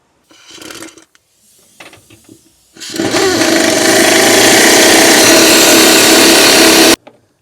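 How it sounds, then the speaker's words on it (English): An impact wrench snugs body mount bolts on a 1980-96 Ford Bronco: a couple of brief scrapes and taps first, then one loud sustained burst of rapid hammering for about four seconds that cuts off sharply. "We'll start snugging these up now with the impact"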